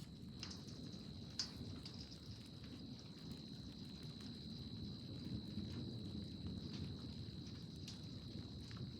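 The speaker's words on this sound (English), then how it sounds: "it's actually raining this time, more lightning" Steady rain patters over a low rumble of distant thunder during a country thunderstorm outside Corson, South Dakota, with a thin constant insect-like whine above; no talking.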